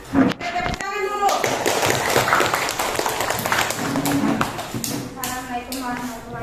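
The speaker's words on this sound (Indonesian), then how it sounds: "Tepuk tangan dulu." Children clapping hands together in a classroom, a burst of fairly close, uneven claps mixed with voices and chatter throughout.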